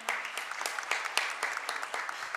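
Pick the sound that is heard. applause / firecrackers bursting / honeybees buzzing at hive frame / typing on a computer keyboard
applause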